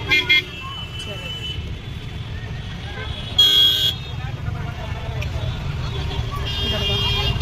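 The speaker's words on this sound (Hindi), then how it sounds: "ट्रैफिक ये देखो लखनऊ का ट्रैफिक" Busy road traffic in Lucknow rumbles steadily nearby, with engine noise throughout and one sharp car horn toot cutting through partway along.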